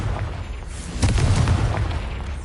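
A Confringo fire spell explodes in Hogwarts Legacy, a deep booming blast landing about a second in and rumbling on beneath low background game noise.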